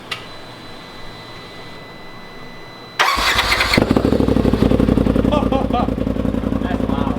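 After a few quiet seconds, a Polaris RZR Turbo S UTV's turbo engine with a new loud exhaust cranks and roars to life, then settles into a loud, rapid, rumbling idle close by.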